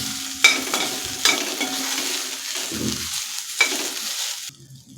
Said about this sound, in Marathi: हे आलं लसूण आहे तेही आपण दोन मिनिट परतून घ्यायचं आहे